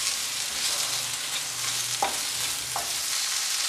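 Tomatoes and curry leaves cooking in a pan under a steady hiss, with a couple of faint stirring scrapes near the end.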